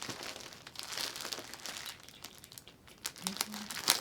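A mail package holding Christmas yarn is cut open and unwrapped, with close, steady crinkling and tearing of packaging and a few sharper rustles.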